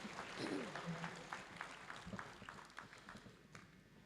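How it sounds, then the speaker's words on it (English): A crowd applauds at a military passing-out ceremony, a steady patter of clapping that swells early and thins out toward the end, with some voices mixed in. "Shall we give the Deputy Commandant another round of applause?"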